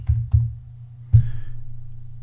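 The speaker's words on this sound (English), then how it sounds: "And then you just type Update to confirm." Several sharp keypresses on a computer keyboard, two quick taps followed by a louder one after a pause, close and fairly quiet over a low steady hum, with no talking.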